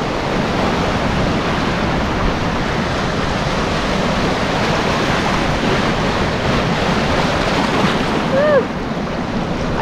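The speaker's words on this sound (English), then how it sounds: "Here come the waves." Sea waves wash onto a cold Welsh beach at Ogmore, a steady broadband roar of surf with wind buffeting the microphone throughout, near and continuous, with a faint brief call near the end.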